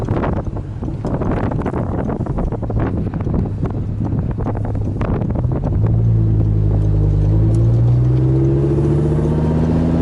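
An Audi R8 pulls away from a stop in second gear, its engine note rising steadily with a quick upshift, heard from inside the cabin over loud road and wind rumble.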